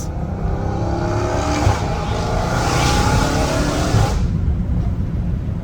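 A straight-piped 850 hp Dodge Hellcat Redeye accelerates in a high gear, its loud, raw exhaust roar climbing in pitch with a continuous rumbling drone, then dropping off abruptly near the end.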